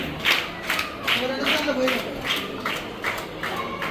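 Children at a school sports day clapping in a regular rhythmic beat, about two claps a second, while an adult voice talks over it.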